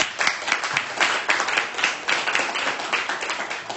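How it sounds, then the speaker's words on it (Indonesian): A classroom of students claps for group 6, a lively burst of many hands applauding together, dense and close, fading a little toward the end. "Berikan aplaus buat kelompok 6"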